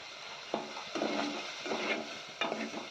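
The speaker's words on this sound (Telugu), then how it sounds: "ఇలా గరిటగా కలుపుకోవాలి మొత్తం" A ladle scrapes and stirs through a prawn curry made with telagapindi in a sizzling pan, giving several loud, uneven scraping strokes close up with no talking.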